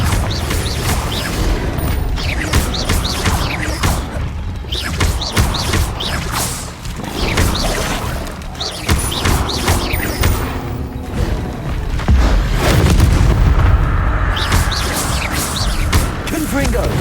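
Confringo fire spell blasts in Hogwarts Legacy, a dense run of booms, thuds and crashes across the clip, loud and close, mixed with other combat effects.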